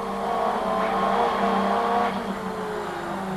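A Group A racing car on a track, its engine note rising and falling under hard driving and braking, loud and close with a brief tyre-scrub edge before easing off.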